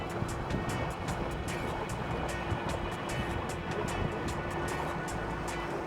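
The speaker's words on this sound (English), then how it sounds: "I love the sound of the water rushing past the front of the boat" Water hisses and splashes past the bow of a small boat cruising Bristol Floating Harbour, a steady close rush with a low engine hum beneath it and faint rhythmic ticking.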